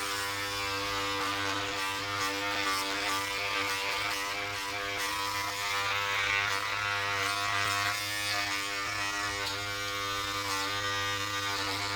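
A Braun Series 7 body groomer trims body hair with a steady electric buzz and a strong mains-like hum, running continuously at close range with slight fluctuations as it moves over the skin.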